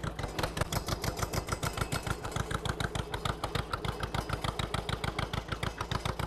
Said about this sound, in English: thanks for letting me ride the tractor